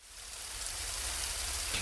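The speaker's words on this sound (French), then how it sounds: "Soudain, la pluie tomba très fort." Heavy rain pours down steadily, a dense, continuous hiss of drops that grows slightly louder, with no voices.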